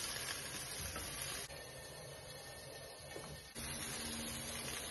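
Broccoli added to a hot pan with onions and ground garlic, frying in a steady, quiet hiss and sizzle that runs on with slight dips.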